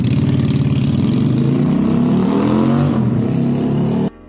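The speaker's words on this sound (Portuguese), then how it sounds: "essa aqui sim o ronco combina com o estilo" A Kasinski 250cc custom motorcycle engine rumbles at idle with a slight rev, loud and close with a pulsing low throb, cutting off abruptly near the end.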